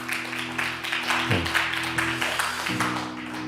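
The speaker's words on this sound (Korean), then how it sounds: "열심히 PPT를 만들어준 우리 다원 형제에게 격려의 박수 한번 부탁드리겠습니다" A church youth congregation gives a dense wash of encouraging applause during worship, many hands clapping continuously at close range over a sustained low keyboard chord.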